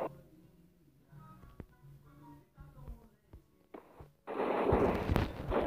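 Gunshots in a shooter video game: quiet, sparse game sounds, then a sudden loud, dense burst of firing near the end.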